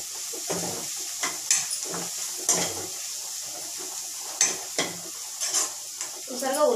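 Onions frying in a pan as a spoonful of chili powder is stirred in: a steady sizzle with repeated scraping stirs, loud and close, no talking.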